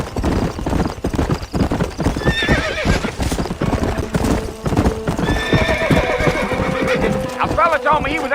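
Horse hooves clip-clop at a steady gallop in the Red Dead Redemption western video game, with several neighs and whinnies rising over the hoofbeats and a voice talking through much of it.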